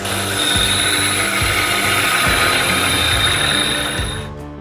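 An electric sander works a piece of wood with a loud, steady high whine and a rough grinding texture, then winds down and cuts off near the end.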